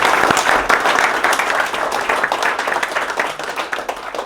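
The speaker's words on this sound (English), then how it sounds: "Round of applause, please." Studio audience applause during a football chat show, dense steady clapping throughout with a few scattered voices mixed in.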